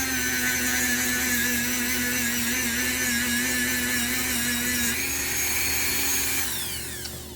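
A power tool drives sandpaper across an Intel 13900K CPU during lapping, producing a steady, loud, high whine with sustained tones that ramps down and trails off at the end.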